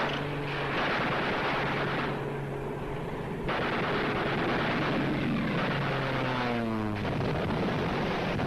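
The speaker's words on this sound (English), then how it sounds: "Aircraft off the starboard quarter." Warplanes roar over a submarine deck in a war film, a loud sustained engine drone with descending pitch sweeps as aircraft pass close overhead, mixed with dense rumbling explosions and no talking.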